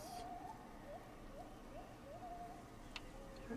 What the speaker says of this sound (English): I hear monkeys and I hear birds.